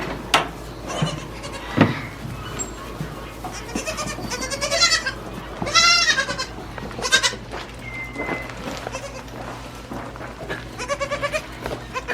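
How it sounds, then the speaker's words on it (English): Baby Nigerian dwarf goats scream and bleat repeatedly in a snowy farm setting while waiting for their bottle feeding, with loud, close, overlapping cries and some background clatter. "baby goats screaming and needing to be bottle fed"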